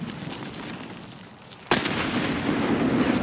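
A grenade blast in Escape from Tarkov, a single sudden loud explosion close by after a quieter lead-in, followed by a lingering rumbling noise.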